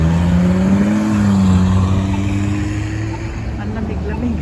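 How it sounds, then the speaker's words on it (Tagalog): City buses pull into a stop in Toronto on a cold day, their engines a loud, steady low rumble with rising and falling drone close by, and a voice talks over it. "Ayan, ang dami po mga bus na dumarating."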